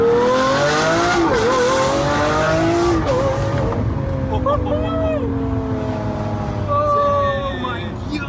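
A rebuilt Lamborghini Aventador accelerates hard with a loud, close engine roar that climbs in pitch, breaks at gear shifts and climbs again, while people talk over it inside the car.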